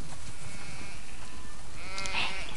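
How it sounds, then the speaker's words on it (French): Sheep bleat in the video game The Last of Us Part II, with two drawn-out bleats, the second louder and nearer, over steady outdoor ambience. "Ça fait beaucoup trop de moutons, ça."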